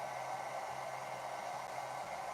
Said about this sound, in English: Something I can just plant my hairdryer in, like that.